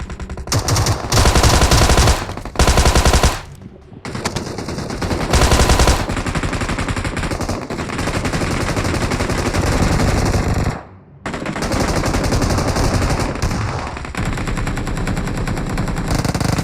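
Rapid automatic gunfire in a solo battle royale video game match, with dense bursts of machine-gun shots, brief pauses and repeated loud volleys throughout.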